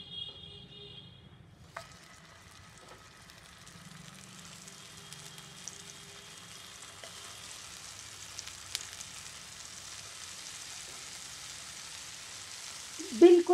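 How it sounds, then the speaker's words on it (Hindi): Vegetable shami kabab patties shallow-fry in hot oil in a pan, giving a soft, faint, steady sizzle that starts after a brief quiet moment and continues with a few light clicks. "गर्म पैन में इसे शैलो फ्राई करें"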